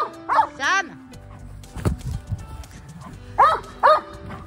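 A dog barks at distant neighbours, giving two sharp pairs of yelping barks, one at the start and another near the end, with a quieter stretch and a few soft thumps in between.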